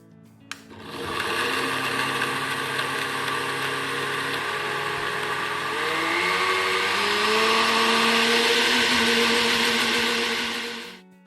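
A blender whirs loudly and steadily, mixing cold coffee with sugar. Its motor pitch shifts partway through, then it cuts off at the end, with no voices.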